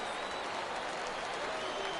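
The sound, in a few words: home crowd cheering in MLB 18 video game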